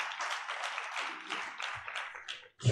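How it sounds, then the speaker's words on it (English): An audience at a media and sustainability summit claps in a burst of applause that gradually thins out, ending with a sudden thump. "Can we also give our speakers a round of applause for session 3?"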